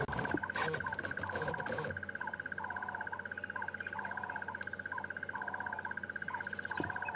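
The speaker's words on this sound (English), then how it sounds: "This, folks, is a crested barbet." A crested barbet gives a long, sustained trilling call in a bushveld tree, steady and clear. Softer, shorter bird notes repeat underneath at a moderate distance.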